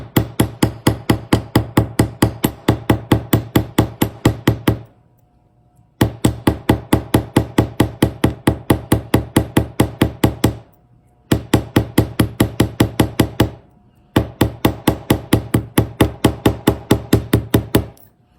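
Hand hammer striking a copper ring resting on a small bean bag, rapid even taps in four bursts separated by brief pauses, close and clear with no talking.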